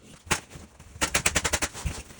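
A staple gun drives staples into duct board: one sharp snap, then a rapid run of about eight crisp snaps and a final one, close and fairly quiet, with no talking.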